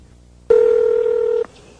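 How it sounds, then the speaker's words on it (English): A telephone call being dialed produces a single loud, sustained keypad tone lasting about a second, sharp on and off over a faint background hum. "we had her place a phone call to her ex-husband, who is now residing in Miami"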